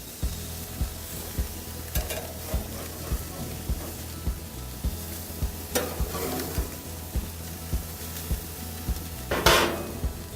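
A black sea bass fillet sizzles steadily in a hot pan, a constant frying hiss under a regular ticking pulse, with occasional louder spatters and scrapes of a utensil.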